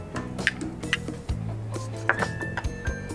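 Caramelised onion relish being spooned into a small dish beside polenta, with soft wet squishes, light clinks of utensil against the dish and a low hum beneath, close and quiet.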